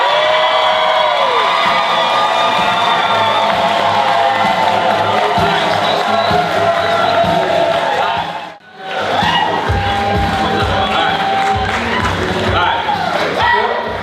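A large audience at a business network regional meeting clapping and cheering loudly and continuously, crowd noise dense throughout with a brief dip before resuming, voices shouting within it.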